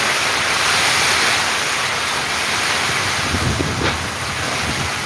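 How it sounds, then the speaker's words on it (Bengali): A nighttime Kalbaishakhi storm in Sylhet, strong gusting wind roaring continuously with heavy rain, loud and close, with no voices. "দেখেন কি পরিমাণ ঝড় বৃষ্টি হচ্ছে।"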